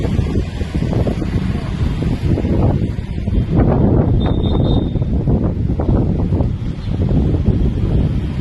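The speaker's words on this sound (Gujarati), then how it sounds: "અને પવન પણ એટલો ફૂંકાય છે ને, કેટલો મસ્ત પવન આવે છે" Strong wind gusts across a village just before the season's first rain. Loud, buffeting rushes hit the microphone and swell and fade continuously, with no talking.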